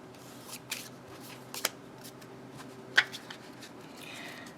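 Lo Scarabeo tarot cards from an Ancient Italian Tarot deck are handled and shuffled up close, with soft irregular riffles and a few sharp card snaps in a quiet room, no talking.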